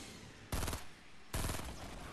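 Two short bursts of automatic gunfire in the Fortnite Battle Royale video game, loud and close, each a rapid rattle of shots lasting about a quarter second, separated by a brief pause.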